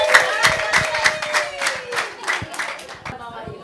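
A church congregation claps for Jesus, a steady run of many sharp hand claps close by with a sung or chanted voice carrying over the applause throughout.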